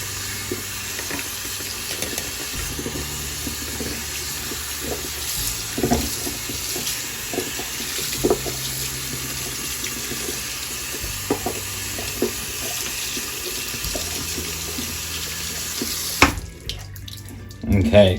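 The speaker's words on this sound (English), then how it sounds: "Then we'll go ahead and rinse her out." Tap water runs steadily into a sink while doll hair is rinsed under it, a constant close hiss with small splashes and handling noises, cutting off near the end.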